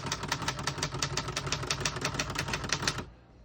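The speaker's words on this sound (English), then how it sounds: "we're going to keep that on single space for now and finish typing." Rapid, steady key strikes clatter on a 1960s Remington Personal-Riter portable typewriter, a close, dense run of sharp mechanical clacks that stops abruptly near the end.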